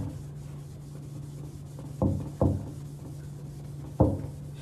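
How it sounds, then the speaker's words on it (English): Stainless steel sink walls are polished by hand, producing a quiet, continuous rubbing with a few short, sharper scuffs or knocks spaced through it. "So now that we've basically lightly polished the walls"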